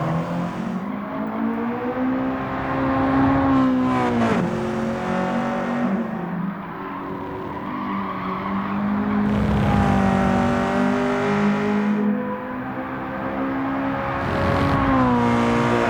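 A Honda Civic SiR EG hatchback laps Tsukuba Circuit in Gran Turismo 7, its engine loud and continuous as revs climb and fall repeatedly through gear changes, with no voices.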